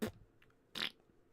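A mouth raspberry imitating a fart noise, a short blurt right at the start followed by a second louder buzzy burst about 0.8 seconds in, close and alone.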